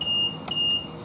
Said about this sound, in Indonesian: Buzzernya dinyalain